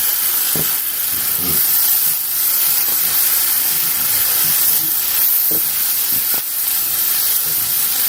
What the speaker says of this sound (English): See the onion frying up, getting that nice caramel brown.